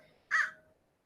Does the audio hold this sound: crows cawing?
yes